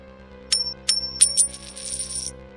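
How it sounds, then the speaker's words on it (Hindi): A 20 rupee coin is thrown and lands with a few bright metallic clinks, then rings and rattles briefly as it settles, close and clear against a faint steady hum. "अब मैं इस 20 रुपए के सिक्के को फेंक देता हूं।"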